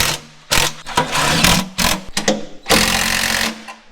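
Impact wrench on the U-bolts of a wrecked Peterbilt 379 truck, firing in several loud, close hammering bursts with short pauses between them, the last burst the longest.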